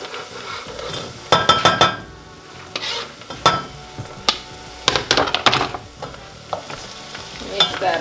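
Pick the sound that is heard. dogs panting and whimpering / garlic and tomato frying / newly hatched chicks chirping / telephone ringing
garlic and tomato frying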